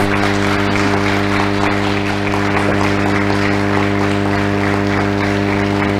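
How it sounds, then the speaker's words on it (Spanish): Conference audience applause at a tourism research event, a steady, even wash of many hands clapping at constant loudness over a persistent hum, with no speech on top. "los despedimos con un fuerte aplauso"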